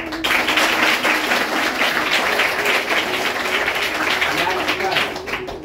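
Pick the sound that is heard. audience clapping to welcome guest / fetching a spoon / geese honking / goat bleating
audience clapping to welcome guest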